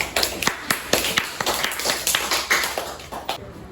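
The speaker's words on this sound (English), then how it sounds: "give her a final round of applause" A short burst of audience clapping after a class demonstration, distinct individual claps at an uneven rhythm from a small group, close by, fading out at the end.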